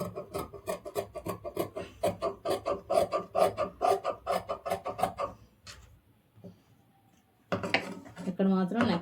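Scissors cutting blouse fabric along marked lines, a steady run of quick rhythmic snips at close range, then a pause and brief handling before someone speaks.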